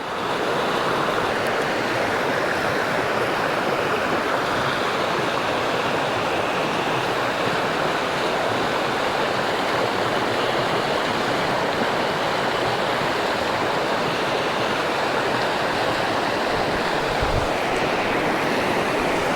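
River water pouring over a weir, a dense, unbroken rushing roar that stays loud and even throughout with no voices.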